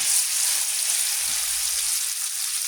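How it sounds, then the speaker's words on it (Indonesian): Ground spice paste sautés with a little water in a pan, giving a steady, close sizzling hiss that runs evenly throughout with no talk. "Tumis pakai sedikit air aja, jangan terlalu banyak."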